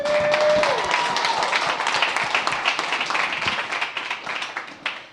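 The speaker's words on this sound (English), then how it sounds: "Let's give a round of applause." Audience applause at the inaugural New York City Enterprise CEO Summit, a room of clapping hands loud at first and gradually thinning toward scattered claps by the end.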